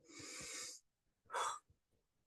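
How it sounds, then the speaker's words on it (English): A big deep breath, a long airy inhale followed by a shorter, stronger exhale, both close and clear with silence between. "Taking a big deep breath."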